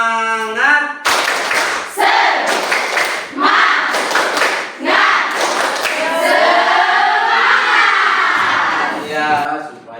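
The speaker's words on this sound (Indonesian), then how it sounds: "kita tepuk semangat dulu ya" An Indonesian-language classroom of students performs the 'tepuk semangat' clapping chant, with loud rhythmic bursts of claps and chanted voices mixed together, led by a teacher's voice at the start.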